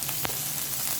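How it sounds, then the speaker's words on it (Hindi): Chopped onions fry lightly in two tablespoons of oil, a soft, even sizzle hissing close by with one brief crackle and no voices. "इसको अभी हम लाइट सा फ्राई करेंगे।"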